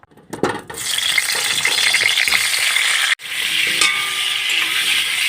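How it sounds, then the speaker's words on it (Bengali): Potatoes coated in salt and turmeric fry in hot oil in a kadai, a loud continuous sizzle with a brief drop and a few clicks and scrapes from handling. "কড়াইতে তেল গরম করে এখানে নুন হলুদ মাখানো আলু রেখেছি এটাকে ভেজে নেব"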